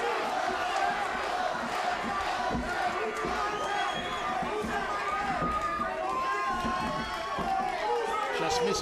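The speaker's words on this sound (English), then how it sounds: "They've got to be loud to get over the heavily partisan Peterson crowd here" A heavily partisan crowd roars and shouts continuously at an LFA MMA bantamweight title fight, a steady, moderately distant swell of cheering under a commentator's voice.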